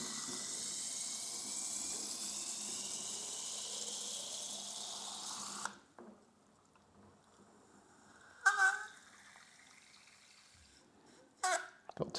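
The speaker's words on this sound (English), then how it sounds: "And then we're gonna go ahead and introduce water into this." A steady hissing stream of water pours for several seconds into a seed tray of sunflower microgreens, then stops; quiet follows with a couple of brief splashes or dribbles near the end.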